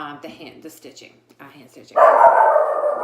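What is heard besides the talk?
dog barking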